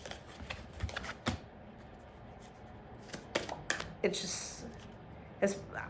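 Large oracle cards are shuffled in a series of soft riffling and tapping bursts, some close and crisp, with quieter handling between them, and a voice talking faintly in places.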